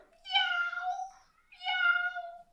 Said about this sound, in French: le chat, c'est lui qui va venir miauler après